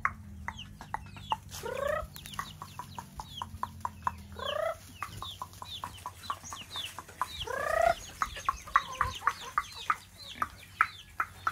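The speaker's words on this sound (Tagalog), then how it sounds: "May mga manok rin tayo dito na pakawala" Free-roaming chickens on a farm cluck in quick, repeated, close bursts, with a few louder rising squawks standing out over a faint low background hum.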